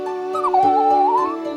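A puppy lets out a long, high, wavering whine that rises and dips, close and fairly loud, with no talking.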